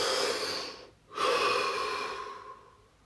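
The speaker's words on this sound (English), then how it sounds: "Deep breath." A deep breath taken during a calming guided session, a long airy inhale, a brief pause, then a slow drawn-out exhale fading away, close and alone with no talking.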